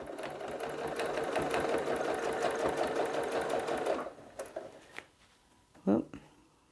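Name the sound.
sewing machine stitching while quilting with a ruler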